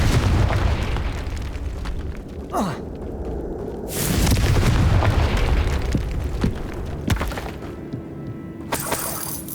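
A Confringo blasting spell from Hogwarts Legacy goes off in loud explosive bursts with shattering debris, a big boom around the middle and crackling crashes trailing away.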